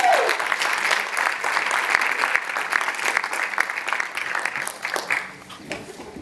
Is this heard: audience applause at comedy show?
yes